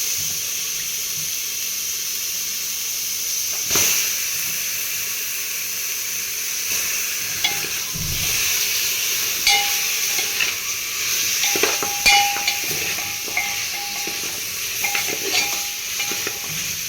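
Mutton trotters (paya) stirred into a pan of gravy give off a steady, close sizzling hiss, with occasional soft clinks and splashes from the stirring.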